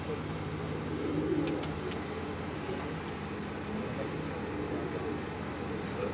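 Pigeons from a breeder's loft in Karachi coo steadily at close range, a low murmuring chorus that holds for several seconds under a faint bed of ambient noise.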